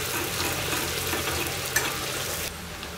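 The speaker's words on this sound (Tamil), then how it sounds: "எண்ணெயிலே போட்டு நல்ல செவக்க வதக்கிக்கணும்" Chopped onion sizzling in hot coconut oil in a pan for prawn gravy, a steady close frying hiss with a faint stir or scrape partway through.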